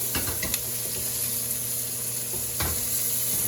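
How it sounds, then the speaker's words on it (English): Pork chops sear in a hot pan with a constant close sizzle, punctuated by a couple of quick clinks and taps. "I think that's a nice sear"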